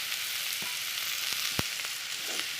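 Taro with green chillies and turmeric sautés in a pan, producing a soft, even frying hiss with a few faint spatula taps. It sounds fairly quiet, and there is no speech.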